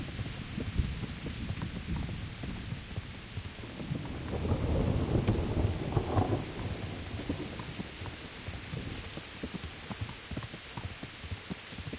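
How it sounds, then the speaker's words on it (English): Rumbling thunderstorm in the medieval game Kingdom Come Deliverance, with steady rain and a heavy low thunder roll swelling in the middle, then easing back to a dense downpour. "it's not very often we get a full-blown storm in this game"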